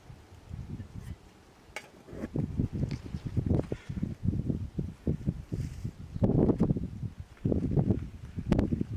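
Strong gusty wind outdoors buffets the microphone in repeated low, rumbling surges that rise and fall throughout, with no talking.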